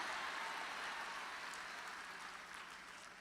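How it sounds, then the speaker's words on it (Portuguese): A church congregation claps in worship, a faint, far-off continuous patter of many hands that slowly fades toward the end, with no voices standing out. "Você consegue misturar glória e aleluia enquanto você aplaude?"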